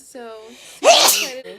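A person sneezes once, loud and sharp, close up just after another person speaks briefly, with a little more talk trailing off at the end.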